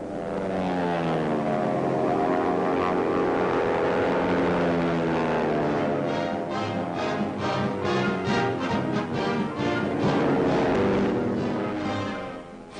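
Military propeller airplanes fly and dive in formation, a loud, continuous droning roar with shifting pitch as the engines pass and peel away, rhythmic pulsing toward the end.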